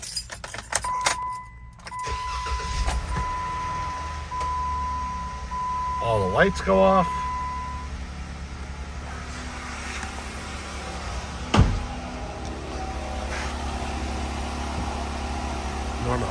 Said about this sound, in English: We're gonna do a cold start video on this 2016 Jeep Wrangler Rubicon.